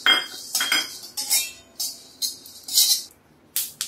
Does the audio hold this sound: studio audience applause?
no